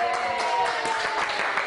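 Short burst of a crowd of fans clapping and cheering indoors, fairly close and steady for under two seconds.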